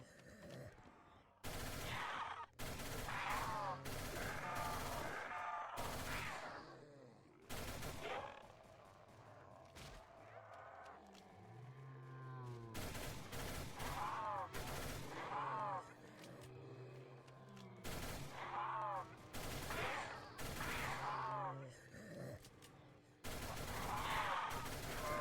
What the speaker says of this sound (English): Here's the SCAR-HAMR at work.